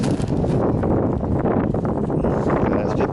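Gusting wind buffets a camera microphone outdoors, making a continuous loud, rough rumble with no clear pauses.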